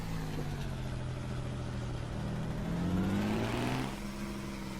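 Kenworth 521 truck engine in American Truck Simulator, a deep continuous diesel drone that rises in pitch as it revs up, then settles back, loud and close with no talk.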